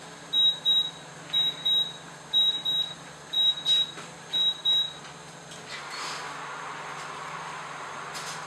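Kitchen timer set for 30 minutes while baking chocolate brownie, giving five evenly spaced bursts of sharp electronic beeps, each a quick triple chirp, loud and close, followed by quiet room tone.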